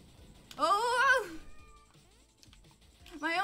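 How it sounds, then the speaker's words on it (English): A pet cat meows loudly and plaintively up close, one long drawn-out cry followed by quieter sounds and the start of another meow, with no speech. "My own cat is crying"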